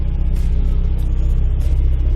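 A Honda EF sedan with a swapped B16A engine idles around 900 rpm, a close, loud, steady low rumble with an even pulsing throb and no voices.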